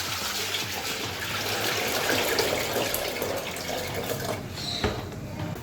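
Water poured into a pan while making bread halwa from rusk, a continuous splashing, trickling pour that runs steadily at close range for several seconds without talk.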